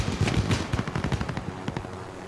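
Rapid gunfire from a video game, a quick string of sharp shots in steady bursts, fairly faint and with no talk.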